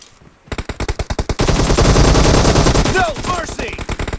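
AKM rifle gunfire in a video game: a rapid string of close, loud automatic shots that swells into a dense continuous barrage, with chirping sound effects layered near the end.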